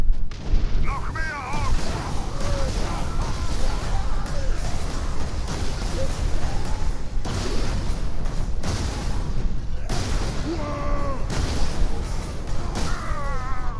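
Plasma cannon blasts boom repeatedly in Space Marine 40k co-op play, heavy bursts and crashes layered with game effects throughout, while players talk over the action.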